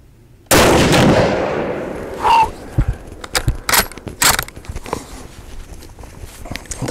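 A Haenel Jaeger 10 carbine in .308 Win fires at an outdoor target range: one loud, sharp report with a long fading tail, followed by a series of clicks and mechanical knocks from the rifle and the shooter handling it.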